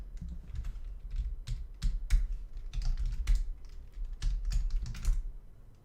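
Close, crisp typing on a computer keyboard, a busy irregular patter of key strikes with a few short gaps, played alone without any talk.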